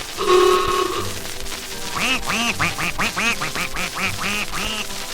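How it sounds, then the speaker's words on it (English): A steady tone sounds at first, then a flock of ducks on a pond quacks repeatedly in quick, uneven bursts, fairly close over a background hum. "A lot of ducks out on the pond."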